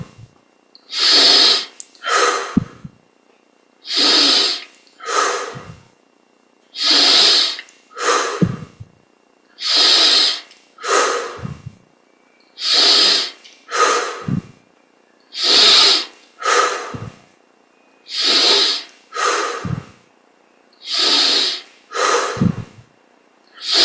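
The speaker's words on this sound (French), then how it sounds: "On respire profondément, on laisse l'air sortir par la bouche sans faire d'effort" Deep breathing exercise with long, loud exhalations pushed out through the mouth, about a dozen forceful breath cycles in a steady, regular rhythm, each followed by a short intake, close and with no talking.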